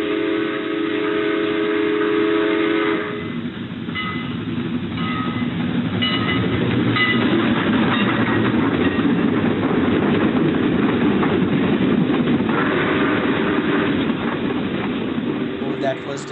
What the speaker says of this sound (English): That was just the sound of a train back in the 1970s and 60s.